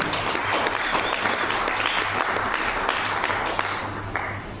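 Loud, dense audience clapping during an indoor training seminar runs steadily through the whole stretch, with a low electrical hum underneath.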